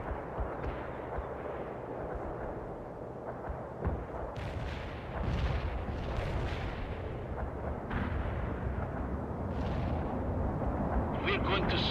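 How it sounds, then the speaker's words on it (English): A Soviet mortar barrage in World in Conflict, a steady rumble of artillery fire with repeated dull thuds and crackling blasts, moderately loud and continuous for about twelve seconds, with occasional radio-style voices. "Firing mortar."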